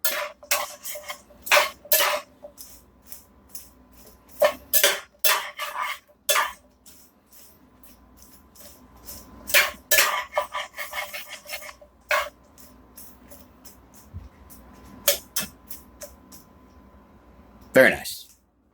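A spoon scrapes and stirs Brussels sprouts coated in bacon grease around a pan, giving repeated sharp, close scraping strokes in irregular bursts with quiet gaps between them.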